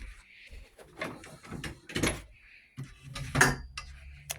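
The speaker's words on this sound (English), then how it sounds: "what I was moving over a moment ago was this table" A table being moved indoors in a children's playroom, with scraping and knocking bumps close by, mixed with light clatter and some quiet voices in the background.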